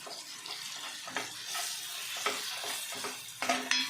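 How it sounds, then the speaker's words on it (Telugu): Ground masala paste frying in oil in a pan for a mutton keema balls curry, a moderate steady sizzle broken by spoon scrapes and stirring clicks, heard up close with no voices. "ఈ మసాలాను కూడా వేసేసుకొని దీన్ని ఫ్రై చేసుకున్నాం"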